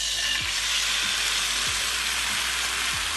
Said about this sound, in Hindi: अब हम इसको पकने के लिए कढ़ाई में डालेंगे।